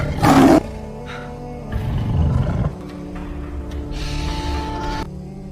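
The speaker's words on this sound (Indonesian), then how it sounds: "disusul dengan aungan singa yang kelaparan" A hungry lion lets out a loud, close roar at the start, followed by lower rumbling growls and quieter background sounds.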